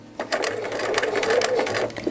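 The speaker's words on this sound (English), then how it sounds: "We're going to begin sewing on the dotted line and going all the way around the outside body" Sewing machine stitching a tote bag along a dotted line, a steady close mechanical whir with rapid needle clatter running continuously for about two seconds.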